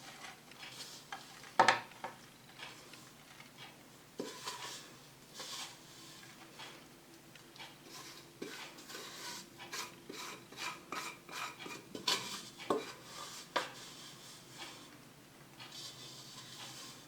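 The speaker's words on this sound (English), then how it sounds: "I will transfer all and will mix by using my hands" Honey cookie dough mixed by hand in a bowl, giving soft irregular rubbing and squishing with occasional light knocks against the bowl, fairly quiet and steady throughout.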